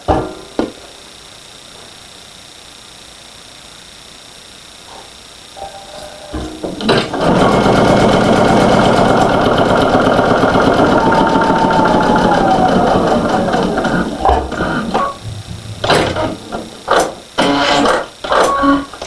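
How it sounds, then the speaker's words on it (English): A sewing machine stitching quilt binding closed: after a few seconds of quiet handling it runs in a long, loud, steady whir, then breaks into shorter stop-start bursts. "I'm going to sew it closed."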